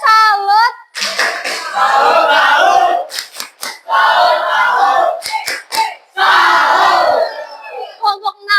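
A class group performs a rhythmic clapping chant together, bursts of unison shouting alternating with sharp clustered claps in a repeated pattern, loud and close.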